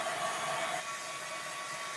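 A craft heat tool blows steadily as it warms layers of a steampunk butterfly project, a constant close whooshing hiss with a faint high whine and no speech.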